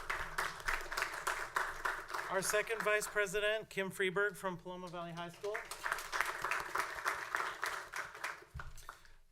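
Scattered clapping from an audience at a high school district board meeting, intermittent hand claps heard under a person speaking over a microphone for most of the time.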